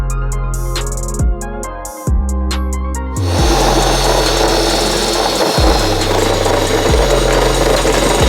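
A loud power drill roars steadily for several seconds while drilling through the back of a Mazda RX-8's glove box, preceded by a few short bursts of stuttering, revving noise up close.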